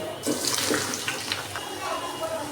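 Cut hog plum pieces for a pickle drop into hot mustard oil, setting off a loud close hiss and bubbling sizzle that holds steady for a couple of seconds.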